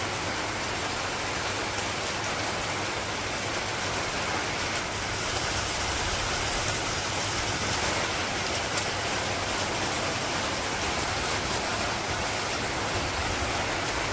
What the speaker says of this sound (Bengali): তো বৃষ্টি মোটামুটি মনে হয় ভালোই নামবো